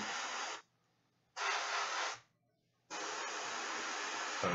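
A hair dryer blows air across freshly painted red armor on a Mephiston miniature, in three loud steady bursts with short silent gaps between them.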